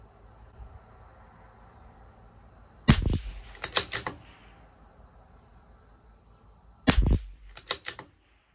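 Shots from a CZ 457 LRP rimfire rifle with an IBI barrel firing Lapua Long Range ammunition at 50 yards, sharp cracks in two quick clusters a few seconds apart, each followed by fast bright echoes over quiet outdoor hiss.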